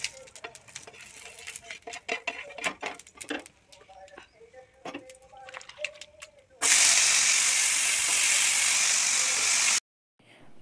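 Vegetables and spices being stirred in hot oil in a kadai, with black cumin, cumin, dried red chilli and curry leaves: irregular scraping clicks and taps, then a loud, steady sizzle that cuts off abruptly.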